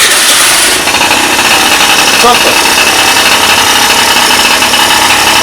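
A Honda ZX 50cc two-stroke scooter engine, freshly repaired after a broken crankshaft, runs steadily and loudly at close range with a buzzing, vibrating idle, and someone speaks over it.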